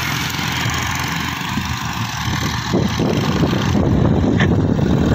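Hindustan 50hp tractors labor slowly up a slope in second gear, hauling a heavy sugarcane load; a steady, loud diesel engine drone fills the whole stretch, growing slightly louder and rougher partway through as the engines strain.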